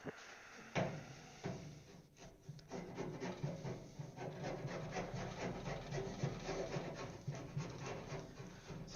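A wide chisel scrapes blue tape off a homemade wooden blasting cabinet, making quiet, steady rasping and rubbing strokes against the wood with a few sharper knocks, close and unaccompanied by talk.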